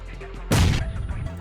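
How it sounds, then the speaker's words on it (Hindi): A grenade explodes in PUBG Mobile as one short, loud, booming blast that decays quickly over a low game background. "तो मैं लेता हूँ एक ग्रेनेड, कुक करता हूँ और फेंकता हूँ अंदर।"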